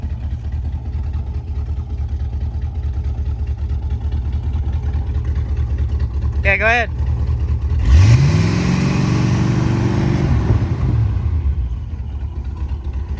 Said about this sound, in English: Hop up in there and give it some gas.